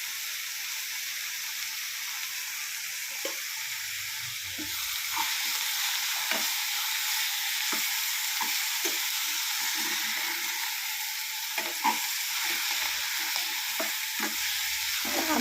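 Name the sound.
sambar spinach being sautéed and stirred in a pan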